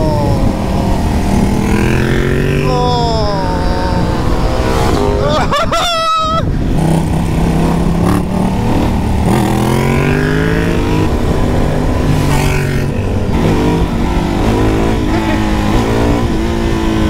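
A twin-cylinder motorcycle engine revs and pulls hard under load, pitch rising and falling with throttle changes, loud and close throughout, with a voice talking over it.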